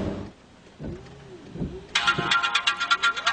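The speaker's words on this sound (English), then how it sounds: "So we're getting a phone call." An incoming call sets off a ringtone on a DROID phone, a bright repeating electronic chime pattern that starts abruptly and sounds loud and close after a few quieter tones.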